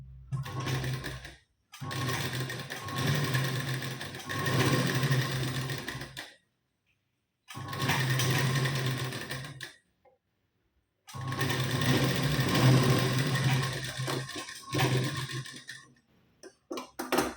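Sewing machine running in long steady bursts, stitching along a blouse neckline, loud and close with a few short pauses between runs.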